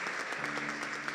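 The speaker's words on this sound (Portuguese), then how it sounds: "Vamos dar uma salva de palmas bem forte, amém?" Church congregation applauding at an evening service, a steady wash of clapping from many hands that fills the room evenly, with faint tonal hum underneath.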